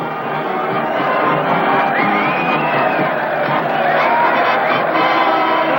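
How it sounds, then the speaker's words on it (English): A big outdoor crowd cheers, whoops and shouts continuously to welcome long-lost castaways rescued after years missing, a dense, loud roar of many voices with individual yells rising above it. "And look at that mob waving and cheering."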